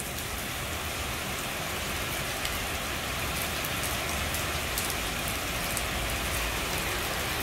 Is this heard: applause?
no